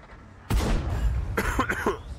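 A single sharp, loud cough bursts out close to the microphone, followed by a couple of smaller throat-clearing coughs.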